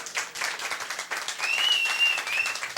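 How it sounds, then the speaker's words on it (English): Scattered clapping from a modest crowd, fairly faint and uneven, with a brief whistle or high tone rising over it partway through. "Let's give him a round of applause."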